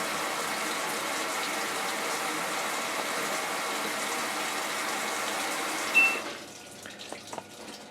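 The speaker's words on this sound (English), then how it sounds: "This is the cold water for the jet spray." Cold water valve on an LG top-load washer (WT4870/WT5070 series) feeding the jet spray in service test mode: a steady hiss of rushing water runs for about six seconds, then cuts off, leaving faint clicks and drips.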